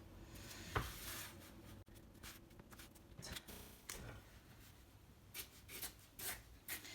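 A hand draws a circle freehand around a traced lamp outline, soft close scratchy strokes that come and go, quiet and without talk.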